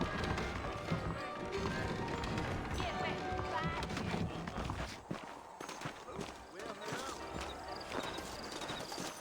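Horses clip-clop along a trail in the Western video game Red Dead Redemption, their hooves thudding steadily under a dense bed of music and ambient game sound, with a short drop in level partway through.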